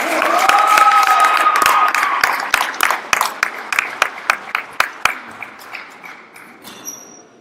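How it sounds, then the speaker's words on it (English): Applause at a high school volleyball game, Dixon vs Belle, honoring the seniors: a full crowd clapping at first, then thinning into scattered individual claps that fade over several seconds, with faint talk and a brief whistle-like tone. "Give them another round of applause."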